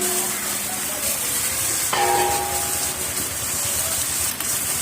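Fish sizzles steadily in a pan of spice paste, a soft continuous hiss of frying throughout with a faint tonal hum in the background.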